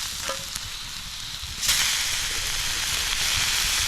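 Steak and morel mushrooms fry in a pan at a survival campsite, a loud close sizzle that swells suddenly partway through and then holds steady, with no voices.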